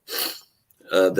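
A single short, sharp sneeze from a person, followed after a brief pause by someone speaking.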